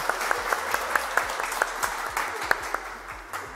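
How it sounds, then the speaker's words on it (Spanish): An audience at a family magic show claps in a brief round of applause with sparse, distinct hand claps over a low background hum. "Un aplauso para mi amigo."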